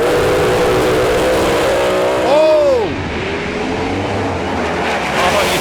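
A Plymouth Duster drag racing car roars close by with a loud, harsh engine note that rises and then sweeps sharply as it passes, with strong background rumble from the drag strip and speech over it.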